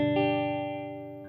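A single guitar chord strummed once on three fretted strings with one open, ringing out cleanly through effects and slowly decaying, with a faint second touch near the end.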